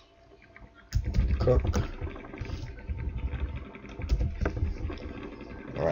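A computer keyboard typed in quick irregular bursts, close and clear, with a voice talking over part of it.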